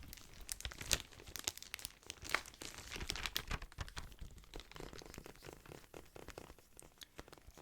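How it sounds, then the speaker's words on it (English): Quick crinkly tapping and crackling on a plastic-wrapped case, close and fairly quiet, with irregular taps clustered throughout and no talking. "I'll just tap on it for a second with the crinkly case on it."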